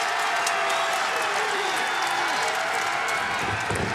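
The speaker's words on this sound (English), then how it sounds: "They are soaking in this live crowd here in Seattle." A live arena crowd at AEW WrestleDream 2023 in Seattle roars and applauds steadily, a dense wash of cheering with a commentator's voice running over it.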